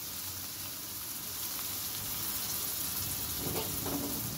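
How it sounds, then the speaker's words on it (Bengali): Boiled soybean chunks frying in oil in a pan, a steady soft sizzle and hiss throughout, close by and fairly quiet, with a slight rise in crackling toward the end. "এগুলো একটু ভেজে নিতে হবে"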